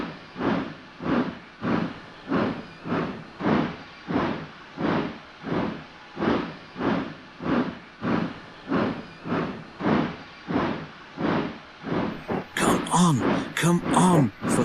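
Steam tank engines in the Trainz game pull a heavy train out of a platform, rhythmic puffing chuffs repeating steadily about once a second, close and clear, ending with a burst of hissing steam.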